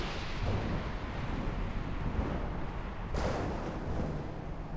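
Thunderstorm in ARK: Scorched Earth, a continuous low rumbling roar with a sharper thunder crack rolling in around the middle, steady and fairly loud with no speech.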